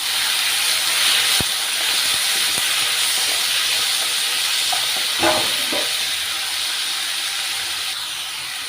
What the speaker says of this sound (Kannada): ಇವಾಗ ಕಟ್ ಮಾಡ್ಕೊಂಡು ಇಟ್ಕೊಂಡಿರುವಂತಹ ಒಂದು ನಾಲ್ಕು ಟೊಮೊಟೊ ಹಾಕ್ತಾ ಇದ್ದೀವಿ